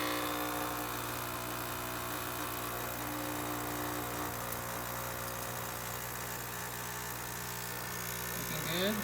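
An Isomac espresso machine, just repaired after overheating and losing pressure, pulls a shot with a steady, droning pump hum with tonal harmonics throughout, close and moderately loud.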